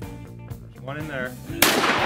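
Gunshots fired at a row of bottles, a sharp loud crack near the end following a stretch of voices and a tonal sweep, with outdoor noise and people talking around the shot.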